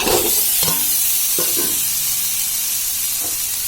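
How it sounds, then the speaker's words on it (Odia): Chopped boiled eggs go into masala frying in a pan for an egg curry, with a loud continuous sizzle and several scraping stirs of the spoon close up. "ଏବେ ମସଲା ଦେହରେ ଅଣ୍ଡାରା ପକେଇବା"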